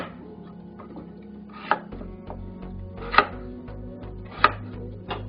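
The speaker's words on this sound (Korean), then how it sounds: "이 정도 크기로 나누어서 그릇에 담아서 바로 삶아줄 거예요" A knife chops peeled boiled potatoes into pieces on a cutting board: four sharp, separate strikes land about a second apart, close and fairly loud, over a quiet low hum.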